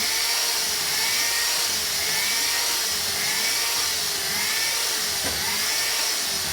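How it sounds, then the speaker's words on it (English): A continuous high electric motor whine, steady and close, with a faint grinding edge as an electric drill spins a file against a metal inlet manifold on a motorcycle build. "I'm just speeding the filing process up by putting one in the drill"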